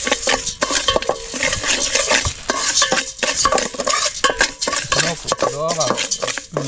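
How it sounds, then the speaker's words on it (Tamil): Puffed rice being dry-roasted and stirred in a pan over a low flame, with constant close scraping and rattling strokes of a utensil and a soft sizzle. "லோ ஃப்ளேமில் வறுத்துக்கணும்."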